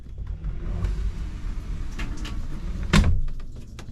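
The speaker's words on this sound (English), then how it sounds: "Oh, we can close that door." A door aboard a boat is pushed shut, ending in a single sharp thud against quiet background rumble with faint movement noises before it.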